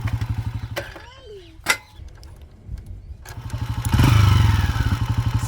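A homemade motorcycle driven by a gate chain chugs with a rapid, pulsing engine beat, drops back and clatters, then revs up loudly again near the end, with people talking nearby.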